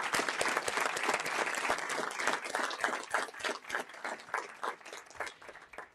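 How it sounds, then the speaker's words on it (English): An awards ceremony audience breaks into applause, clapping thick and full at first, then thinning into scattered individual claps as it fades. "Please, let's give them a big round of applause."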